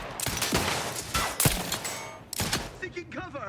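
Video game gunfire crackles in scattered sharp shots and short bursts amid battle noise, with people talking over it.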